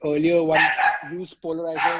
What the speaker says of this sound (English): Sorry, that's my dog going mad.